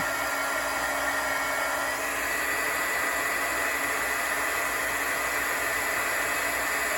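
A heat gun warms up for embossing a card, blowing a continuous, even, hissing whoosh up close with no change in pitch or level throughout.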